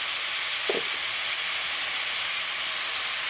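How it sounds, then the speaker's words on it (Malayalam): Onions for a Kerala-style chicken stew fry in a pan with a loud, constant hissing sizzle, a brief scrape of stirring early on, close and without talk. "ഇനി ഇളക്കി കൊടുക്കും."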